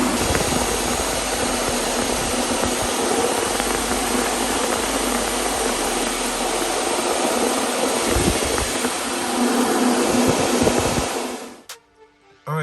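Electric aftermarket radiator fans running loud and steady on a third-gen Chevy Camaro, 1982–92, a broad whooshing roar that holds constant for about eleven seconds before cutting off abruptly, followed by a brief clunk.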